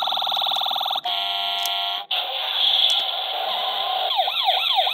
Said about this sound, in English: car that makes sound effects